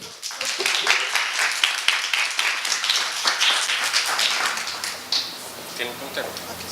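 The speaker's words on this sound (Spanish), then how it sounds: "Le damos la más cordial bienvenida con un aplauso." Audience applause welcoming a guest speaker from Costa Rica's seismological network at a formal talk on high-risk coverage of volcanoes and earthquakes, dense clapping with a strong start that fades over several seconds, with voices mixed in.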